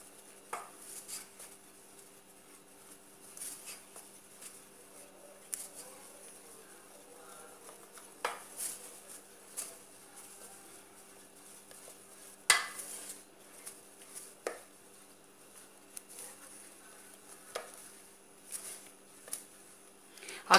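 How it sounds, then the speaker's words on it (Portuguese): Brigadeiro cake batter being mixed in a bowl, giving quiet irregular clinks and scrapes of a utensil against the bowl that come close together, with low background hum and no speech. "E vamos misturar."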